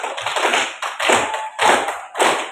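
Slow, deliberate group clapping at a teacher-training practicum event in Merauke, Indonesia: four loud, separate claps spaced roughly half a second apart, each ringing briefly before a short pause.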